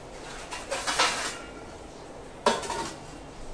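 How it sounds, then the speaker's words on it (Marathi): A metal lid set down on a pot of Bombay-style pav bhaji on a home stove, giving a couple of sharp clinks, one around the middle and a distinct clatter near the end, with no talking. "झाकण ठेवते आणि एक उकळी काढूया"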